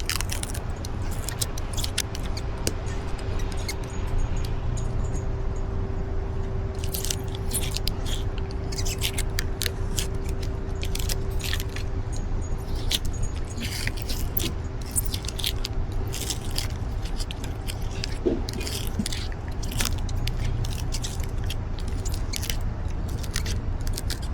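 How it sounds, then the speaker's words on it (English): A razor blade cuts through the windshield molding on a 2023 Honda Passport, a continuous close-up scraping and crunching that runs for over twenty seconds over a low steady hum. "Then I can use this razor blade to cut the molding."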